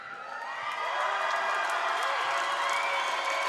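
Basketball crowd in a gym cheering and shouting for the Mark Morris Monarchs at a boys' high school game, a steady loud roar that swells within the first second and holds.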